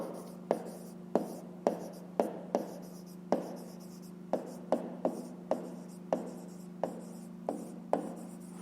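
Pen strokes scratch across notebook paper while a math exercise is worked out, a steady series of short, close writing sounds with brief pauses between them and no voices.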